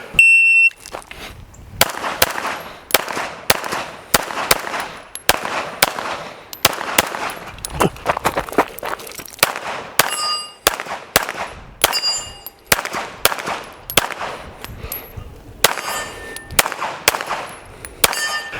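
Pistol shots fired during practice at steel targets, a long string of sharp cracks in quick irregular groups, several followed by ringing metallic clangs, loud and close with pauses between strings.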